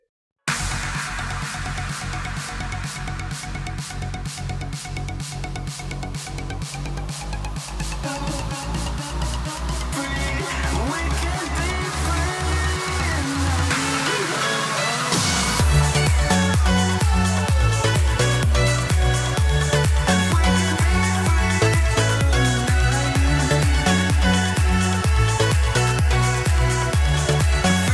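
A tropical house track built from a Spire synth lead with a pounding kick and deep bass line plays loud and steady, its beat filling out and growing fuller partway through, with no voices.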